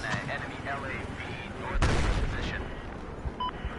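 Gunfire from snipers in the video game Battlefield 4, a dense noisy battle mix with a loud sharp crack near the middle followed by continuous rumbling combat and scattered distant shots.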